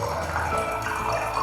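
Vinegar poured into a bottle while mixing homemade streak-free glass cleaner, a steady close liquid trickle and splash running unbroken and moderately loud, with no voices.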